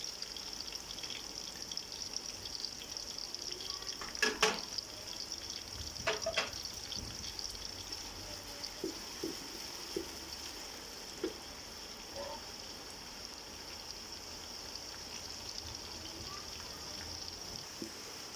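Ginger garlic paste fries with browned onions in a pan, giving a faint, steady sizzling hiss, with a few scattered clicks and light taps against it.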